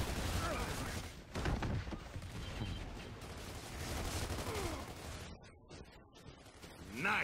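Rapid assault rifle fire from the Gears of War 2 online match, bursts of gunshots crackling near and far through a busy game mix, with players chatting over the top.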